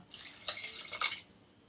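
Tamarind water is poured into a cooking pot in a short splashing burst lasting about a second, close up, then trails off into quiet.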